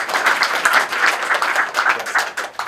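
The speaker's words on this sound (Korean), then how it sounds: "박수 한번 다시 한번 부탁드릴게요." Seminar audience applauding at a product launch for Wevil S and Smooth Q2 gimbals: steady, fairly close clapping from a modest crowd, even and sustained throughout, with no talking over it.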